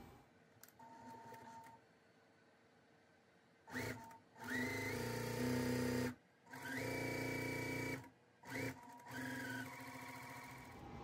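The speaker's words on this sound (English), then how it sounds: "I'm gonna sew right on the line" Sewing machine stitching a quilt block for a four patch basket straight along a drawn line, whirring in several bursts of a few seconds each, separated by brief pauses and quieter gaps.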